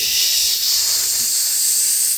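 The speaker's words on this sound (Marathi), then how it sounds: "कुकरची शिट्टी म्हणतो त्याला" A kitchen pressure cooker lets off a steady, loud hissing whistle of escaping steam that holds unbroken for a couple of seconds, with no talking over it.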